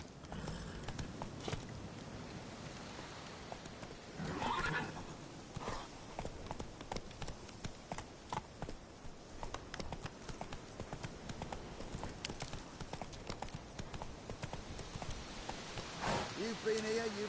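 Horse hooves clip-clop steadily through most of the stretch as Roach is ridden in The Witcher 3, with game music and ambience underneath; a neigh is not clearly evident.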